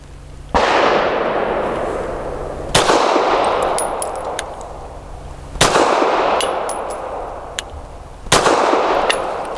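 Four sharp pistol shots from a Grand Power P1 Ultra firing PPU 158 grain subsonic rounds, evenly spaced a few seconds apart, each crack followed by a long ringing decay outdoors.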